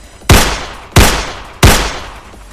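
Three loud gunshots in a video game, evenly spaced about two-thirds of a second apart, each a sharp crack that fades quickly, with no talk over them.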